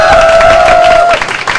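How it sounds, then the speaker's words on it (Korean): Audience applause at an esports event, a StarCraft league match, a dense wash of clapping and crowd noise filling the hall with a steady tone running through it before it thins out near the end. "박수로 맞아주시기 바랍니다"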